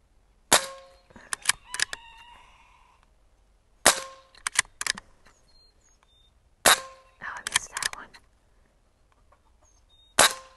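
Diana Storm Rider air rifle firing at targets outdoors: four sharp cracks spaced a few seconds apart, each followed by quick metallic target clangs and rattles, with faint birdsong in between.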